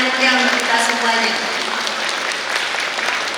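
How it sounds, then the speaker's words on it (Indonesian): Audience applause at a reception for the 77th Cooperative Day in Kediri Regency, a dense patter of clapping that fades a little over a few seconds, with a voice briefly audible at the start. "Kita berikan tepuk tangan yang meriah untuk kita semuanya."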